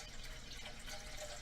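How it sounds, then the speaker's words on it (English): Filtered water poured into a container, a steady continuous splashing rush that stays even and close throughout, with no voices. "So I'm going to go ahead and fill this container up with my filtered water"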